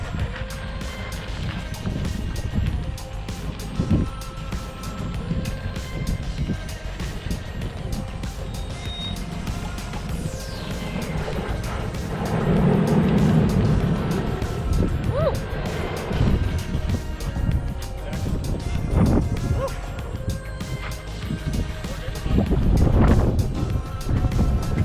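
An SUV creeps slowly over an off-road obstacle, a low engine rumble that swells and eases, with occasional creaks and thumps from the chassis, plus faint outdoor background noise.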